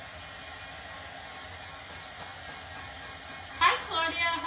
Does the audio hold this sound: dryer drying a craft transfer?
yes